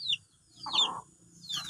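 A hen clucks close by near her chicks, a few short throaty calls mixed with thin high peeping in a quiet farmyard.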